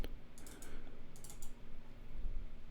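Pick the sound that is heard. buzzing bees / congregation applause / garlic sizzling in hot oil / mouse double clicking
mouse double clicking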